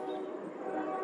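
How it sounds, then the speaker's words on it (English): Steady low rumble of a passing train carrying through a home garden in July, a continuous broadband drone holding level and fairly loud for the whole second, with no voices. "Sorry about the train noise, nothing I can do about that."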